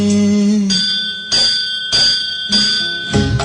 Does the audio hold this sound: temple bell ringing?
yes